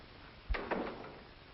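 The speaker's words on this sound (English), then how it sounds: "Hadn't you better close the door?" Door being closed in an old crime drama, a single dull thump followed by a short rattle of the latch, close and fairly soft against quiet room tone.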